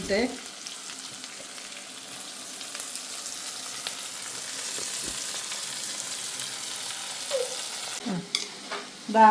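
Hot oil sizzling steadily in a pan as crushed onion, green chili and ginger are stirred, a soft crackling hiss with a few clinks of a utensil near the end.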